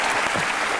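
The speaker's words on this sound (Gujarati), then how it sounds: "We should give a loud round of એપ્લોઝ." Studio audience at a televised courtroom-style talk show applauds, a dense steady wash of clapping hands filling the short moment without any talk.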